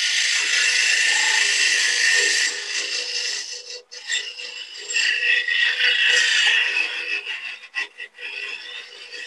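Steel gouge taking light cuts on wood spinning on a lathe while turning a paper towel stand, a steady close scraping hiss with brief pauses and dips as the tool is lifted and reapplied.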